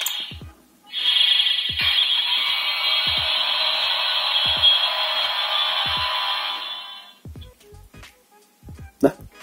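Bootleg Ultraman Tiga Spark Lens toy changer playing a short electronic effect, a bright buzzing tone lasting several seconds with a beat ticking under it, followed by a few soft clicks.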